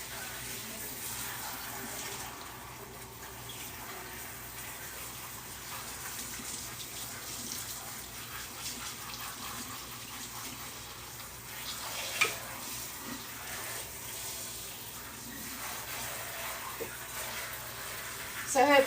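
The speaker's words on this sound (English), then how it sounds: "I like doing it in the sink because I can really see when it's running clear and it's done rinsing." Tap water runs steadily into a sink as tie-dyed fabric is rinsed, a continuous low wash of flowing water with faint handling noises and a soft clatter near the end.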